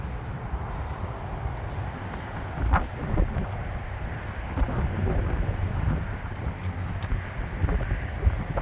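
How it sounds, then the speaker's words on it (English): Wind gusting outside a motorhome towing a Jeep JL Rubicon Unlimited, a constant low roaring buffet against the microphone with occasional stronger gusts, no voices. "I had to step out in the wind"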